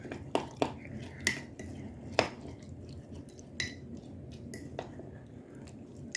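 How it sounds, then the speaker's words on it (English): Food being stirred in a pot during home meal prep, with a series of light clinks and scrapes of a utensil against the pot, spaced irregularly at close range, with no talk. "now we will stir"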